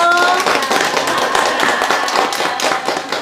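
An audience claps for a multicultural puppet troupe after its show, a brisk flurry of many hands at close range with faint voices mixed in.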